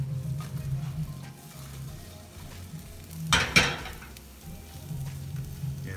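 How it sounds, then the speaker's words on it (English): A flipped southwest omelette fries in a pan with a steady close sizzle and a brief louder burst of hiss midway, and there is no talking. "Here's our omelette is flipped. Let it cook a little bit more."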